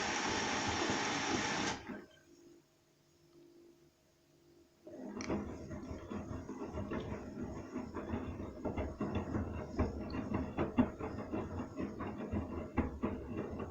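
A washing machine mid boil wash with towels draws in detergent: a loud whirring motor cuts out abruptly, a brief low hum follows, then a rhythmic clattering churn starts and carries on steadily.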